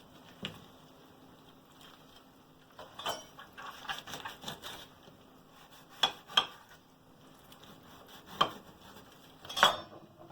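Knife scoring slits crosswise into a whole sea fish for baking, each cut a short scraping tap with a light rub on both sides, several sharp clicks scattered across a quiet kitchen with no talk.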